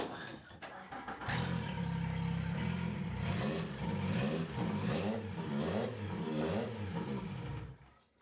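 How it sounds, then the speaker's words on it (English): Boat engines are started and rev through uneven surges, a loud throaty rumble with wavering pitch that runs for several seconds before being shut off and fading out at the end. "That's the last time the engines on the boat are going to run until next spring."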